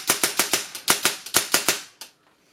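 Airsoft replica fitted with an HPA Mamba system firing on semi-auto: about ten sharp, evenly spaced close shots in quick succession, each with a crisp snap and short decay, ending abruptly into near silence.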